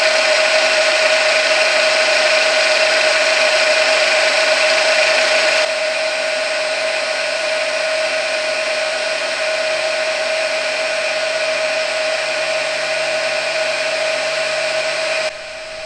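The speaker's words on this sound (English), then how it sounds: "I'll start the video on the milling machine where I'm just milling" A milling machine cuts fullers into a mosaic dagger blade with a steady, continuous high whine and whir, loud and unbroken, dropping slightly in level partway through.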